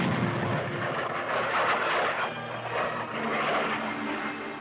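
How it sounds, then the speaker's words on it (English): An American fighter bomber attacks a communist installation in Vietnam in 1965, producing a loud, steady engine roar that fills the whole stretch with only slight swells and no voices. "This is an American fighter bomber attacking a communist installation in Vietnam."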